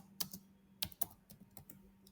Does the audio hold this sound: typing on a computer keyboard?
yes